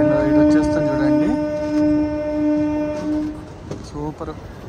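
The Vijayawada–Narsapur MEMU Express sounds a sustained, loud horn that bends in pitch and then holds as it switches back to the main line, over a running rumble, with brief voices afterward.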